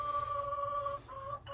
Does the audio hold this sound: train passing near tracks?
no